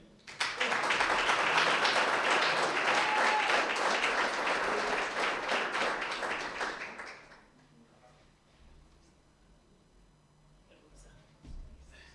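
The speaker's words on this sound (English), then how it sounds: "we also please ask for a big round of applause, Mr. Ruben from Lions Cricket Union." An audience at a blind cricket series closing ceremony claps in loud, sustained applause for several seconds, then it fades away into a quiet room.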